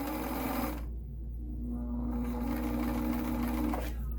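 An Elna Supermatic sewing machine stitches steadily at close range, a continuous mechanical hum and rapid needle clatter that runs unbroken throughout.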